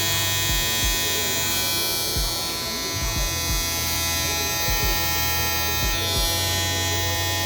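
A Babyliss FX One electric shaver rated at 10,000 RPM running, a loud, steady high buzz held close to the microphone without pause.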